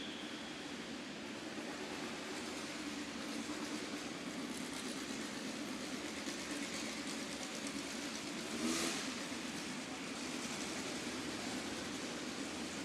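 Several USAC Regional midget race cars being pushed off onto a Southern Illinois dirt track, their engines a steady, continuous roar with a brief louder swell near the end, no talk over it.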